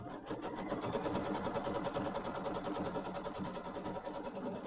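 An embroidery machine stitches quilt batting held in a hoop, a steady rapid mechanical whir with regular needle pulses, fairly quiet and continuous with no voices.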